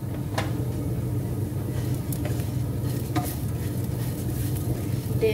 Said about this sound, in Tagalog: naririnig nyo yung nagpa-popping